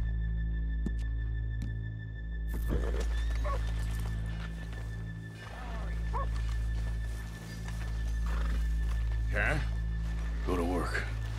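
Horses in Red Dead Redemption 2 snort and whinny several times, mid-distance, over a steady low game ambience and hum, with footsteps and shuffling around them.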